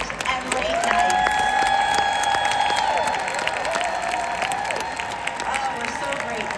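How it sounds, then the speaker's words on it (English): Large conference crowd at a Mary Kay leadership event breaks into sustained applause with whooping cheers and sustained high-pitched shouts rising over the steady clapping, loud and continuous throughout. "Let's show them some big Mary Kay love with a big round of applause for all their hard work, long hours, and late nights."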